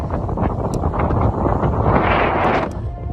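Wind buffeting a microphone on a gravel bike riding a road along the New South Wales border, a steady loud roar with gusting rumble and no talk.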